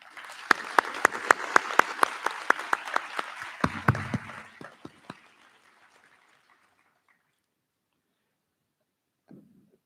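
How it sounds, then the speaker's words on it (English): Applause from a commencement ceremony audience, made of crisp individual claps spread through a large crowd. It starts loud and steady, thins out and fades over about five seconds, then gives way to near silence with a faint sound at the very end. "Will all of you please give a round of applause for our great faculty and for our great students."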